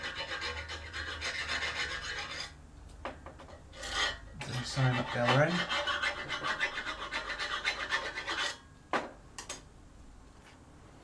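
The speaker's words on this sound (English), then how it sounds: "run a file through, just take any burrs off that occurred from punching through with that" A hand file rasps back and forth across a freshly drilled hole in metal on a wheel carrier repair, clearing burrs in short scraping strokes, with someone briefly speaking.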